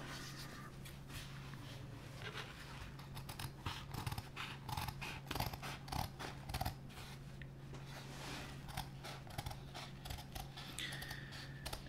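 Scissors snipping through fabric to cut out the bottom of a ditty bag, a steady run of close, crisp cuts and rustles over a constant low electrical hum, with no talking.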